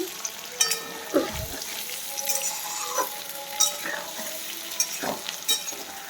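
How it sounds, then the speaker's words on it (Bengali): Eggs and potatoes fry together in a pan with a continuous hiss and spitting crackle, punctuated by occasional knocks and scrapes of a utensil, close by with no talking. "ডিম আর আলু একসাথে ভেজে নিচ্ছি"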